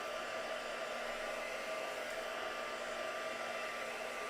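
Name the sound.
hair dryer drying a mixed media art page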